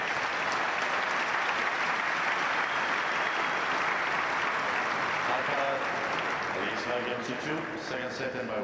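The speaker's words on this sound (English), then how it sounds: "Applauding Aussie's efforts, there's no doubt about that." A Wimbledon crowd applauds at a tennis match, sustained and fairly loud, with many hands clapping at once while a commentator talks over it.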